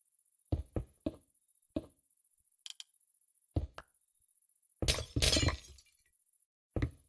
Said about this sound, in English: Anybody else hate the sound of the glass breaking?